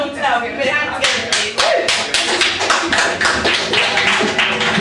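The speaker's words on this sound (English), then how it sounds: "We put your hands together" An audience at a live comedy show breaks into applause, a dense burst of many hands clapping together that stays steady and loud throughout, with a voice speaking over the top.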